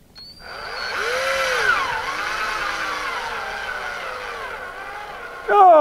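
A power drill whines into a model rocket nose cone to open a hole for clay weight, a steady close motor drone with pitch wavering under load before a sharp noise at the end.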